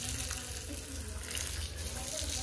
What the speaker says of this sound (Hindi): कान को बचा के डालें पानी हमेशा